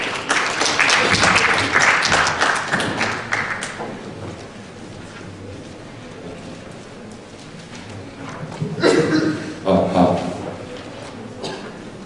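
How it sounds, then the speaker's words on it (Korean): Audience applause welcoming a presenter at a Korean smart finance seminar, loud at first, then dropping to a quieter stretch before a second swell of clapping near the end. "큰 박수로 맞아주시면 감사하겠습니다."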